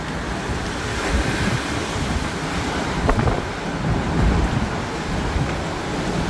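Violent gusts of Storm Nils tear through Bordeaux at up to 124 km/h, a loud, continuous roaring rush of wind buffeting the microphone, with hail at times and a few sharper bursts, and no voices.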